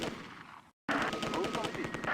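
Heavy automatic gunfire from an MG42 machine-gun squad in the WWII strategy game Close Combat: A Bridge Too Far, Polish airborne drop on farmland, a dense rapid burst of shots that cuts out briefly and then resumes loudly.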